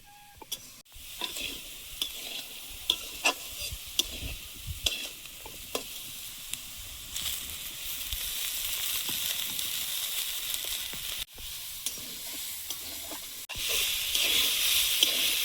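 Greens being stirred into a pan of frying vegetables, after potatoes are already cooked most of the way. Sizzling runs steadily under irregular scraping stir strokes, and the hiss grows louder and denser near the end.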